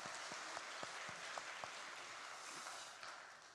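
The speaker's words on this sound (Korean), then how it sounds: "박수하겠습니다" A church congregation claps together in steady, soft applause, fairly distant and diffuse, with a few sharper individual claps standing out.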